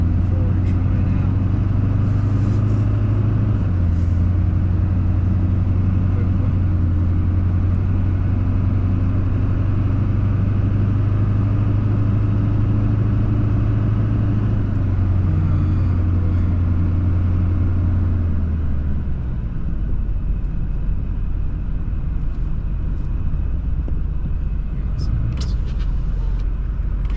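A cold Duramax diesel in a Silverado truck rumbles at a steady idle up close, its low drone easing and settling down partway through, with a few faint clicks near the end.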